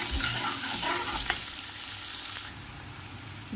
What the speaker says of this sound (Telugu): ఇప్పుడు ఇందులోకి ఆనియన్ వేసుకుందాం. బాగా వేసుకొని ఫ్రై చేసుకోవాలి.